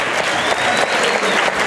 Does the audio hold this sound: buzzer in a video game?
no